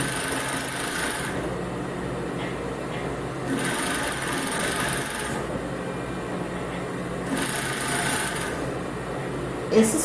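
An overlock sewing machine stitching fabric for underwear, heard as a close, buzzing whir that runs in short bursts with pauses between them, with faint background sounds and no clear talking.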